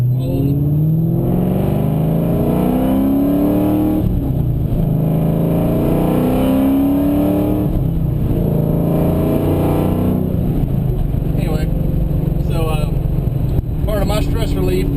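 A 2003 Cobra car drives along, its engine repeatedly accelerating through rising revs from inside the cabin, with people talking over the engine throughout.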